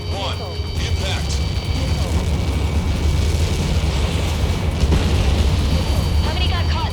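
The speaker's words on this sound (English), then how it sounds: "How many got caught in that explosion?" A missile impact explosion in the video game Ace Combat 7 rolls out as a sustained, heavy rumbling roar that fills the whole stretch, with voices talking over it.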